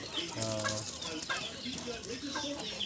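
First-day quail chicks kept under a warming light peep in a busy, high-pitched chorus of rapid chirps, with a brief voice heard at the start.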